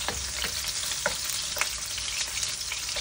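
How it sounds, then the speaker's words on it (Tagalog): Garlic sautéing in a pan for dry adobo makes a constant crackling sizzle, with a few light spoon scrapes against the pan. "Igisa lang tayo ng bawang."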